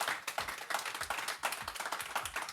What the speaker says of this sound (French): Bravo à tous les trois, on peut les applaudir.